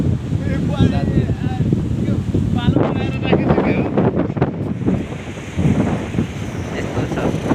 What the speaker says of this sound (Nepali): छाल आयो छाल हेर्नुहोस् साथीहरु समुद्रको छेउतिर हावा चलिरहेछ छाल आइरहेछ